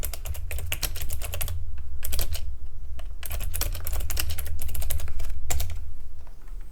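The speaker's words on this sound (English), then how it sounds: "and we just type anything" Rapid typing on a computer keyboard, bursts of close, clicky keystrokes separated by short pauses over a low steady hum, with no one speaking.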